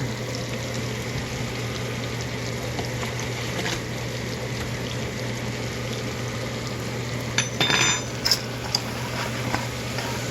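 Flour being stirred into onions and mushrooms simmering in a pan on a stove turned down low: a steady soft sizzle and bubbling hiss runs throughout, with a few brief utensil clinks near the end and no talking.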